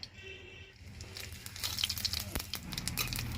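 A whole bay leaf, dried chilli and cumin drop into hot oil for banana flower chops, and a quiet start gives way to a soft, crackling sizzle that builds and continues.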